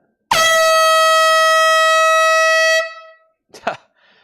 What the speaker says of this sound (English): That air horn was so loud.